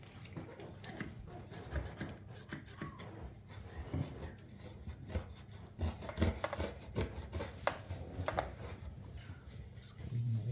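A cloth rubs continuously over the sump surfaces of a Bosch dishwasher during seal replacement, making quiet, close scrubbing and rasping strokes in an irregular rhythm.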